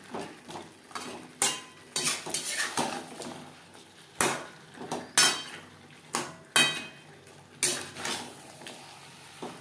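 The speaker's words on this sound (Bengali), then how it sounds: "আলু ও মশলার সাথে মাছের মাথা বেশ ভালো করে মিক্সড করে দেবো।" A spoon clanks and scrapes repeatedly against a pan as fish heads are mixed with potatoes and spices for a Bengali fish head kalia, steady rhythmic metallic knocks, close and fairly loud.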